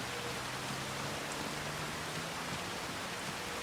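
Steady rain in the farming video game Farming Simulator 25, a dense, even hiss of falling water with no breaks, fairly loud and with no talking over it.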